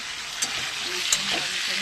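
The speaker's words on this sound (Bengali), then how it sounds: "একটু লাল করে কপিটা ভাজা হবে।" Cauliflower florets fry in a pan until reddish, giving a loud, continuous sizzle with a couple of sharp stirring clicks close by.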